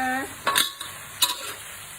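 Mama instant noodles stir-fry with pork in a pan, a sharp sizzle with two quick metallic spatula scrapes against the pan, close and moderately loud, briefly preceded by a voice.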